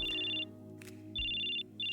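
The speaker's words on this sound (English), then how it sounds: "Your phone rings and you're nearly dropping your haste to pick it up." A phone ringing in the Choices: Stories You Play game, an electronic ringtone in two clear trilling bursts with a short gap, over a faint background music bed.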